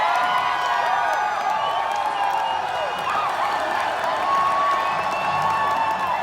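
A big race-day crowd at the Daytona 500 cheers and whoops in a sustained, dense roar with scattered applause, loud and steady throughout, no clear talking over it.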